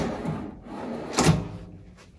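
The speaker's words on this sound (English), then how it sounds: "those are soft closing drawers specifically made for this workbench." Soft-closing drawers on a workbench slide shut, a close rolling glide followed by a firmer muffled thump as one settles closed, then a fainter trailing knock.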